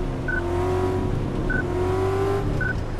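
Simulated car engine in Car Mechanic Simulator 2014, a powerful car with poor traction, droning steadily and revving with rising tone, continuous and loud, with brief higher tones recurring; no talking.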